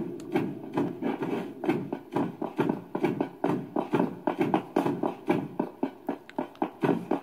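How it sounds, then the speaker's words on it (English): Heavy, rapid thudding footsteps of a monster chasing the player in the horror video game Project Playtime, a steady loud pounding rhythm close by, continuous throughout with no talk. "And I heard footsteps."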